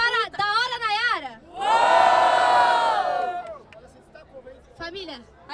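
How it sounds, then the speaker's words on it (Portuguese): A crowd at a rap battle in Barueri, São Paulo, erupts in loud sustained cheering and shouting for about two seconds, between stretches of an MC calling out to the audience. "Barulho para Érica"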